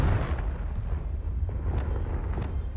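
Confringo blasting spell from Hogwarts Legacy, a heavy booming explosion with a deep rumbling low end that rolls on for a few seconds, loud and alone.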